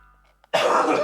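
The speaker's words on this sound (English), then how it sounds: "I've been holding that cough in the entire time" A single loud, close cough bursts out abruptly after a near-silent moment and carries on as a harsh, raspy expulsion to the end.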